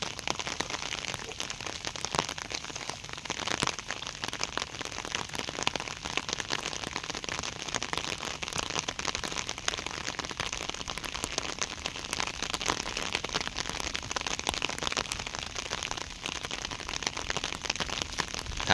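Light rain falls steadily over a flooded excavation site where a dike blocking water has burst, a dense, even hiss of drops on water and surfaces running without break and with no voices.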